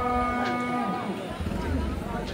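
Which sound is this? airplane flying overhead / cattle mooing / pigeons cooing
cattle mooing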